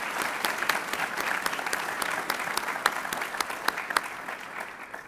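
A university college award ceremony audience applauds award-winning students. Sustained crowd clapping holds at a steady level, with a few sharper individual claps standing out.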